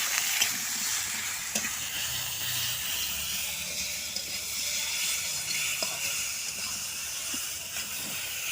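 Spice paste of ground coriander and chili being stirred into koi fish and gourd curry in a pan, a steady sizzle and hiss with faint scraping from the stirring.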